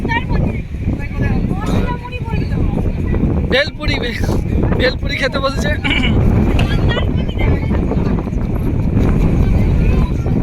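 Strong wind buffets the microphone in steady gusts at Bakkhali, with a person talking over the roar and some clattering in the background.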